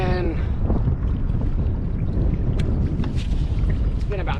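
Strong wind roaring over open water around a kayak during fishing, a loud continuous rumbling buffet against the microphone with faint water wash beneath.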